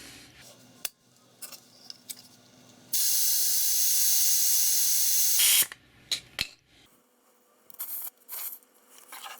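Compressed air pump inflating a Mazda car tyre, a loud steady hiss lasting nearly three seconds with quiet clicks and handling noises around it.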